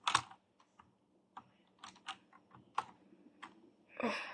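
Computer keyboard keys pressed while playing The Forest, a series of irregular close clicks and taps with short gaps, ending in a slightly longer rattling burst.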